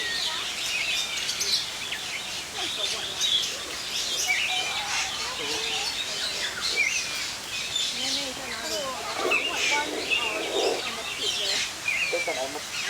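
Starlings chirp and whistle in a busy, overlapping chorus at a bird feeding spot, bright calls scattered steadily throughout at moderate distance, with some faint background murmur.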